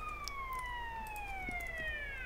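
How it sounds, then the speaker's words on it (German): Police car siren in the video game SA-MP (GTA San Andreas), a steady wailing tone with slowly falling pitch that keeps sounding loud and close throughout, with no one speaking. "Na, jetzt macht doch die Sirene aus."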